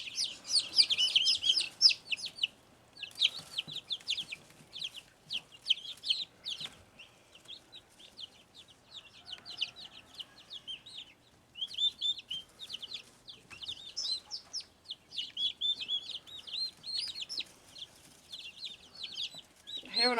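Chickens and young turkeys kept together in a coop, giving a dense chorus of high chirps and peeps with scattered clucks, continuous and close for the whole stretch, with only brief pauses and no talk.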